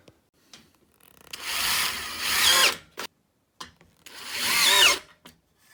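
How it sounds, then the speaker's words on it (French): Power drill driving screws through a vertical metal rail on a wooden frame against a plasterboard partition, heard as two close, whirring bursts of a couple of seconds each, separated by short clicks and quiet pauses. "Donc, on a cette feuillure qui prépositionne le rail vertical. Voilà. Donc là, je vais le visser."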